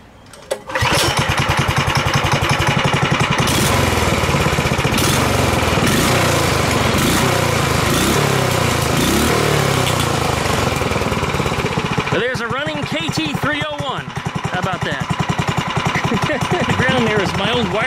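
A Predator 301 small engine in a Coleman KT196 go-kart sputters to life and runs loud and close, a rough chugging drone that shifts pitch as the throttle changes. Brief talk is heard near the end.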